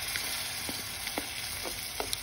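Washed rice toasting in a hot pan, a dense, steady sizzle with a few soft scrapes and stirs, close and continuous for a couple of seconds without speech.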